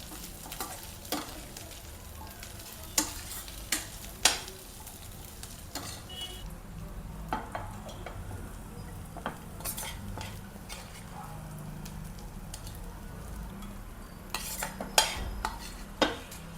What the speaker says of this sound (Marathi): हे एकदा छान परतून घेऊ आणि मिक्सरला बारीक वाटून घेऊ